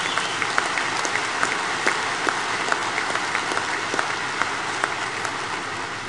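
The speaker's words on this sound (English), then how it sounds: "Give them a round of applause." A large audience at a banquet claps steadily in a sustained round of applause, heard from some distance as a dense patter of individual claps.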